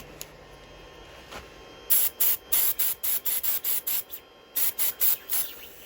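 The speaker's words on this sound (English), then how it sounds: "I'll just put a little bit of red spray on the bottom of it." Red spray paint fired in short repeated bursts from an aerosol can onto the base of a small woodturned Christmas tree, about a dozen close, sharp hissing puffs in quick rhythm with brief gaps, after a quiet start.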